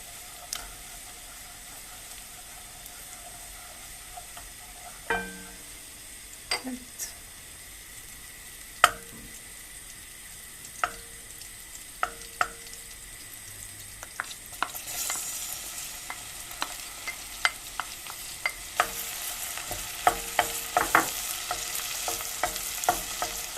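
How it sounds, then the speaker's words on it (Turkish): Onions frying in melted fat in a pot for a Turkish meat and white bean stew: a steady soft sizzle with sharp clicks and scrapes of a utensil stirring, growing busier and louder toward the end. "Soğanlarımız kavruluyor."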